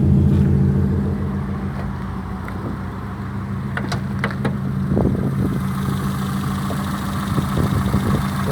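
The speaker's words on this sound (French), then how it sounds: "on peut entendre le moteur qui a un peu de mal, qui peine un peu" A struggling Peugeot 106 petrol engine idles roughly with a steady low rumble and uneven, shaky pulses, plus a few brief clicks and knocks along the way; no one speaks.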